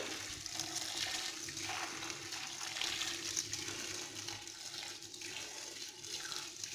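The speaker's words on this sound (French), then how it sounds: "Je vais couvrir d'eau chaude." Hot water pours steadily over meat in a cooking pot while preparing Moroccan couscous, a continuous close gushing splash running alone with no pauses.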